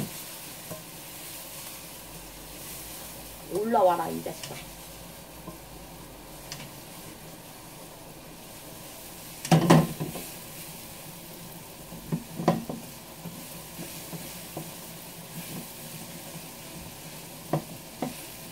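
Shrimp stir-fried with carrot, onion, garlic and spicy chili peppers in a pan, a soft continuous sizzle with occasional louder clatters and scrapes of stirring, and a brief muttered remark from a person.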